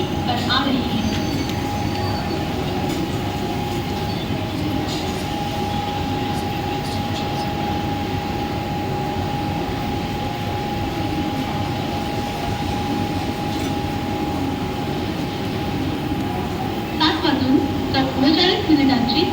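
A slow Mumbai local train bound for Ambarnath pulls into platform 1 at a railway station, a steady loud rumble of wheels and carriages with a constant tonal hum and squealing wheels near the end, while station announcements play over it.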